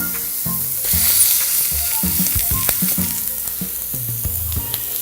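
Eggs and sausage sizzle on a breakfast griddle, a close, steady fry with spitting crackles and a few clinks and scrapes of a utensil, and no voices.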